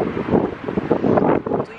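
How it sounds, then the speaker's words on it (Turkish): Strong gusts of wind buffet the microphone outdoors, producing loud irregular low rumbling bursts across a short stretch with no speech. "Bayağı esiyor şu an."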